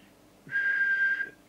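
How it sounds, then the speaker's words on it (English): A single steady whistled tone into the microphone of a Midland 2001 CB radio during transmitter alignment, held for under a second, clean and close, with faint background hiss before and after. "we'll just do the whistle test to make sure that that's in spec."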